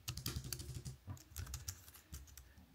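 Rapid, uneven clatter of fingers typing random keys on a Huawei ultrathin wireless keyboard, light plastic clicks close to the microphone, fairly quiet, with no talking.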